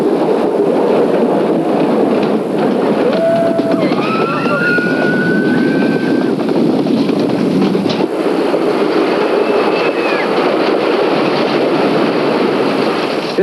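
A loud, steady rumble of the Thunderbolt roller coaster at Kennywood amusement park, riding continuously on its rails with a rattling clatter, faint squeals and whistle-like tones rising briefly over the roar.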